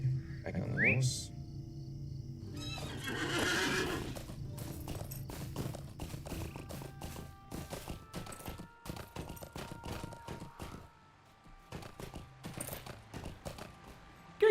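Horse hooves clip-clopping in a steady rhythm while riding in Lord of the Rings Online, with faint game ambience and small effects around them.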